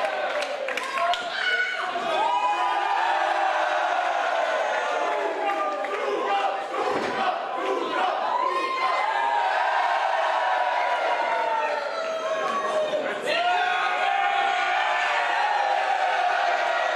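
Wrestling crowd at a Swiss tables, ladders and chairs match reacting with mixed cheers, whoops and boos, a loud continuous roar of many voices with shouted calls rising and falling throughout.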